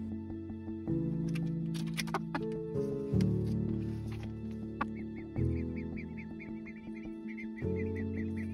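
Ducks newly moved into a chicken pen quack and honk in loud bursts with short pauses, several birds calling close by over a steady background hum.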